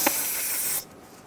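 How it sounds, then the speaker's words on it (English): A steady aerosol spray of parts cleaner onto a car's brake caliper hisses loudly for just under a second, then cuts off abruptly, leaving quiet room tone. "Spray the caliper and bleeder screw area with some parts cleaner."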